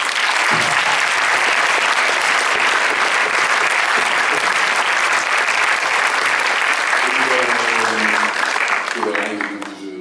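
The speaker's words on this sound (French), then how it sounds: "j'aimerais qu'on les applaudisse" A cinema audience at a film premiere loudly applauds the film crew, sustained thick clapping filling the room, with a voice beginning to speak over it near the end.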